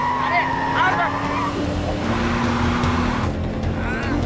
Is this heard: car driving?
yes